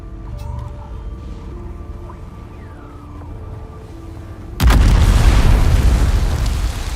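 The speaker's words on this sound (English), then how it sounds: "Grenade." A grenade goes off in a video game as one sudden loud, deep broadband blast whose rumble holds and slowly fades. Before it comes quieter game ambience with a faint siren-like gliding tone.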